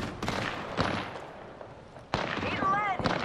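Gunfire in the video game Apex Legends comes as several sharp, close bursts separated by short pauses, with a synthetic in-game voice callout partly overlapping the shots.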